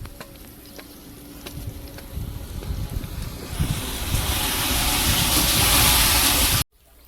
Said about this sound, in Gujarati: આપણે અત્યારે ભરવાનું છે પાણી ગાય માટે. તો આપણે પાણી ભરી દેવું મોટર ચાલુ કરીને.